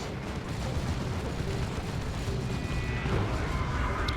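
Volleys of Cyclone missile-launcher missiles strike a Predator tank in Dawn of War II: Retribution, a steady dense rumble of blasts and impacts in a 3v3 battle with no voices.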